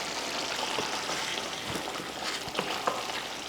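Thick black chickpea masala gravy bubbles and sizzles in a pan, a soft steady hiss with occasional pops, close by and fairly quiet.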